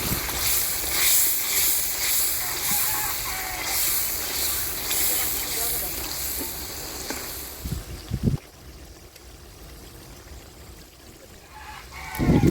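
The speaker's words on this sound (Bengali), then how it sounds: "কাঁচা লঙ্কা ঢেলে দিলাম।" Green chillies are dropped into a pan of fried spice paste with black pepper for village-style mutton curry, making a loud, hissing sizzle that fills the first part and then fades to a quieter crackle with a few clatters.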